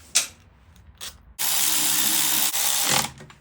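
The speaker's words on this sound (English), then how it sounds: "These get torqued to 110 inch-pounds." A wrench tightens new bolts on a CRF110 shifter support brace: a sharp click and a few brief ratchet sounds, then a loud sustained hiss of about one and a half seconds.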